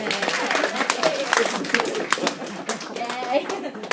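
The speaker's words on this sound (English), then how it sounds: "Shall we give him a round of applause?" An audience breaks into a round of applause, steady scattered clapping filling the room throughout, with voices chattering and calling out over it.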